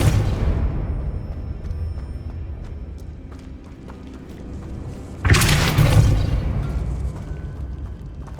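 Spell blasts in the Hogwarts Legacy video game: a deep booming explosion fades slowly, then a second sharp, bright burst erupts and rumbles off, amid faint in-game footsteps and effects.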